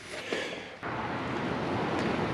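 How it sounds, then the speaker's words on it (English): Strong wind gusting across an outdoor microphone, a steady loud rushing roar with a brief dip before it surges back and holds. "And it's very windy here today."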